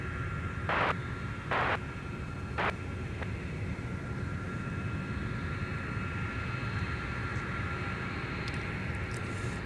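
A Delta heavy jet takes off from Minneapolis–St. Paul airport, bound for Amsterdam, heard as a steady, distant engine roar with a few brief radio-like clicks early on.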